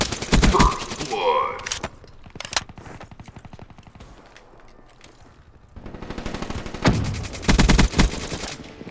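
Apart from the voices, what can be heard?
gunfire in the video game Black Ops 3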